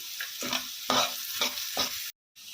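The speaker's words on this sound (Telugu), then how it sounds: "పచ్చిమిర్చి వేసుకొని వేయించుకోవాలి." Onions and green chilies fry in oil for a chicken fry, a dense close sizzle broken by several rhythmic stirring scrapes, then a brief dropout of silence before the sizzle returns.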